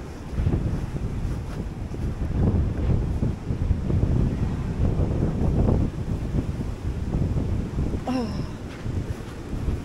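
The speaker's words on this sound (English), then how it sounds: "The wind is still high." Strong gusty wind roars steadily into the microphone outdoors in St Vincent and the Grenadines after Hurricane Beryl, a loud continuous buffeting rumble with a brief high tone near the end.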